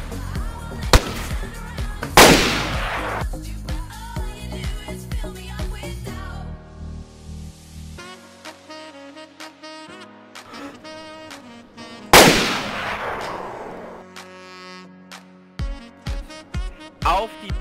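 Sharp bursts of DayZ gunfire and impacts crack out in clusters, with two loud explosive blasts, scattered single shots and brief electronic tones between them.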